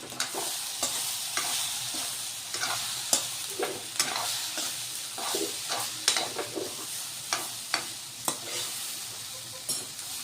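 Zunka, a spiced gram-flour dish, sizzles and fries steadily in a pan while a spoon stirs it, with repeated close scraping strokes at an uneven rhythm over the constant hiss.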